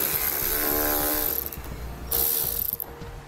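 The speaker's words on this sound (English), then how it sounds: "On the bottom of the vehicle, you're going to be using an 8 millimeter socket." A ratchet with an 8 mm socket backs out wheel liner screws underneath a towed vehicle. It gives a loud, close, continuous clicking, then shorter bursts with brief pauses.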